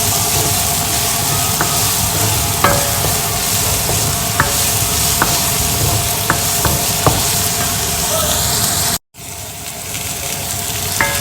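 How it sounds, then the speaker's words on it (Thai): Finely chopped onions being sautéed in a pan, a loud, steady, close sizzle throughout with occasional sharp ticks of the utensil, cut briefly by a short dropout near the end. "ตอนนี้ก็กำลังรวนหอมใหญ่ค่ะละเอียดนะคะ"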